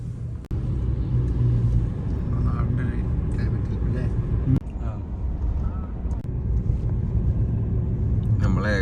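A vehicle travels along a road in Phuket, giving a steady, loud engine and road rumble that runs throughout, with people talking over it.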